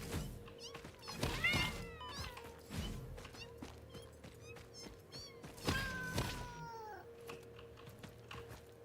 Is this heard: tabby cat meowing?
yes